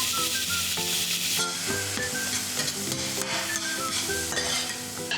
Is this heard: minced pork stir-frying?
yes